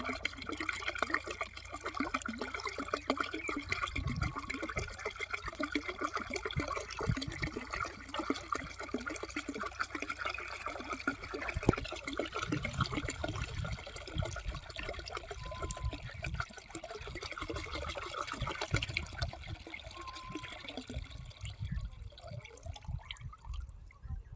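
Cow urine trickles and splashes steadily into a five-litre container, faint and close, for a long stretch with a few brief gurgles, while making jeevamrutham for natural farming.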